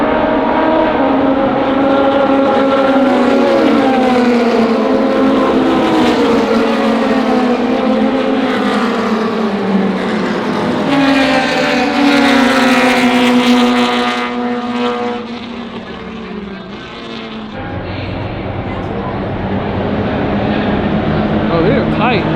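Corvettes and other race cars on a parade lap roar past one after another, engines loud and close with rising and falling pitch, while a spectator talks over the noise.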